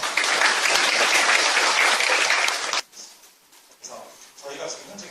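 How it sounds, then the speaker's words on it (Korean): A lecture audience claps together in a dense, loud burst of applause that stops abruptly, followed by quieter room sounds and a voice speaking. "이준희 차장님께 박수 한번 부탁드리겠습니다"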